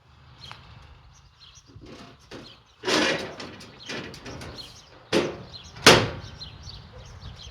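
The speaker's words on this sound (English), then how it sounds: "And come and close the door." Horse trailer door being closed during loading: several sharp metallic clanks and one loud latching bang, close by, with rattling handling noises between and faint bird chirps in the background.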